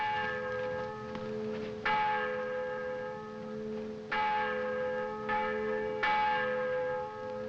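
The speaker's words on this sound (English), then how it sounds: "See if you can stop those confounded bells" Church bells toll slowly and distantly near a train in a 1950s setting, each strike ringing out and decaying over a low steady hum, about five strokes with no talking.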